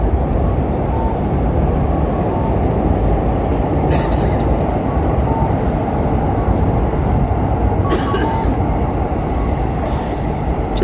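Train passing in Tokyo, a loud continuous rumble of wheels and carriages close by, steady throughout with a couple of brief sharp metallic clatters.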